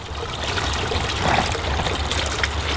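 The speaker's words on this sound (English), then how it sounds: "This is the water coming straight from the spring under here." Fresh spring water trickles up out of the ground in rural New Zealand, a steady close burble and gurgle that runs without a break through the short stretch.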